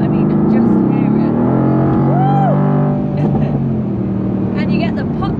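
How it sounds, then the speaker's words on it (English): A Mercedes-AMG GT R engine in sport plus mode gives a loud, continuous low rumble that swells and holds steady, with a voice talking over it part of the time. "I would put it in sport plus mode all the time because I love listening to the grunt of the engine"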